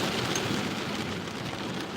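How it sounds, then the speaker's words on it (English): Heavy rain pours down outdoors in a dense, continuous hiss of drops striking surfaces, loud and steady, with no one talking. "It's raining pretty damn hard here, dude."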